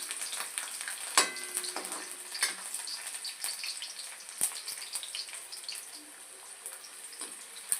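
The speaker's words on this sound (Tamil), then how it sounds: "பூண்டையும் நல்லா வதக்கிக்கணும்." Garlic sautéing in hot oil for a spicy Tamil kara chutney, a steady close sizzle and crackle with occasional spoon clinks against the pan, no voices.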